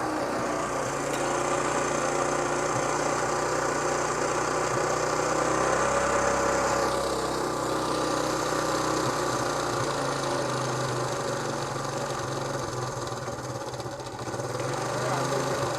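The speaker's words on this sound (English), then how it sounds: "We can probably have it idle a little lower." A 1972 Honda CT90 K4 motorcycle engine idles steadily and close after carburetor adjustment, a continuous mid-pitched putter that dips slightly near the end, with talk faintly underneath.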